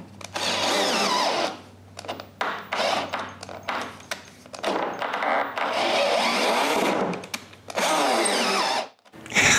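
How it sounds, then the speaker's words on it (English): A power drill boring screw holes and smaller pilot holes into hardwood for a closed bookcase, running in repeated short bursts with brief pauses between, close and fairly loud with no talking. "I begin with a bigger hole the size of the screw, followed by a smaller pilot hole. Then I can screw them in place."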